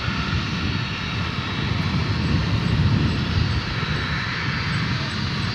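A Qantas airliner bound for Sydney departs DFW Airport at night with a sustained heavy engine roar that swells slightly in the middle and stays constant, heard alone without talk.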